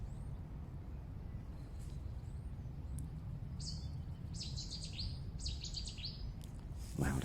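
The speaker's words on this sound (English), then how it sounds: "Wow, that's some noise that bird makes." A bird chirps outdoors in short repeated bright bursts over steady low traffic-like rumble, moderately distant, ending with a sharp louder call, with no talk.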